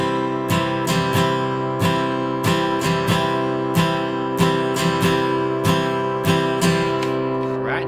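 Guitar strummed in a steady three-beat pattern, sharp down- and up-strokes ringing over sustained chords, played alone and close at a moderate, even tempo for basic strumming practice.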